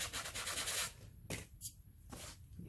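Short, scratchy rubbing strokes of a sanding block on a painted rock, close and fairly quiet, in a few separate bursts.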